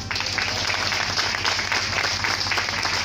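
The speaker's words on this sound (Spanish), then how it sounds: "Un fuerte aplauso" An audience applauds after a live song performance, giving a steady, dense wash of clapping that lasts throughout the short stretch, with no speech over it.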